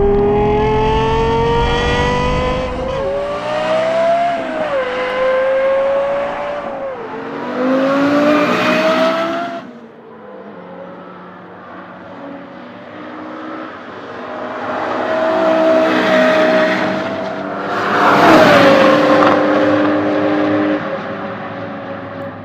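A Lexus LFA supercar's high-pitched engine wails through repeated rising revs and gear changes, loud and near, with a pass-by surge and a second climbing run, no voices.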